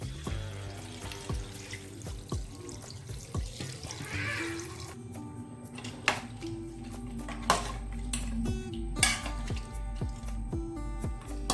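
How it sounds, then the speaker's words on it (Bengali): Water runs and splashes into a pot of mutton curry, a continuous close pour with a few clinks of utensils against the pot. "এবার দিয়ে দেব জল"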